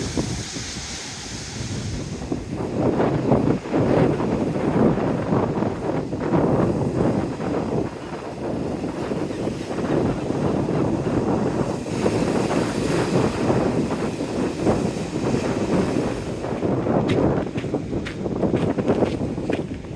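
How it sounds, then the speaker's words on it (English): Strong wind buffets the microphone on a windy seawall by the sea, a loud, continuous roar with gusting swells and the wash of surf beneath it, with no talking. "Here we go, the seawall, the windy seawall."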